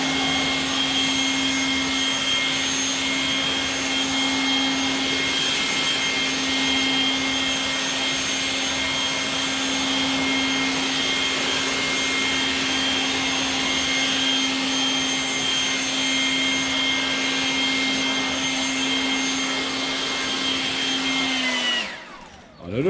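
A PATOOLIO 20V cordless electric leaf blower runs in turbo mode, giving a loud, steady high-pitched whine and rushing air for about twenty seconds before it abruptly shuts off.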